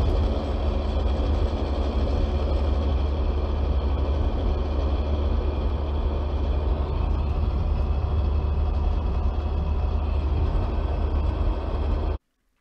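Mazda RX-8 driving in town, heard as a played-back recording: a constant low engine rumble and road noise, steady and loud throughout before cutting off abruptly near the end, no voices.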